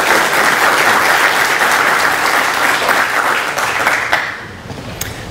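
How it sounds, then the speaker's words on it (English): Audience applause welcoming a speaker to a talk, a steady dense wash of many hands clapping close and loud, thinning out and fading over the last second with a few scattered claps. "please give him a huge round of applause"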